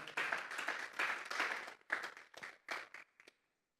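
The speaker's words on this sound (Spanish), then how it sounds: "Denle una ofrenda de palmas a Dios en esta hora." A church congregation claps hands together in a quick, uneven burst that thins out into a few last scattered claps before stopping.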